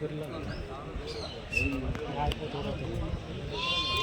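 Sheep and lambs bleating among a large flock at the Tuesday sheep market in Kadiri, with repeated calls over a busy crowd and people talking nearby.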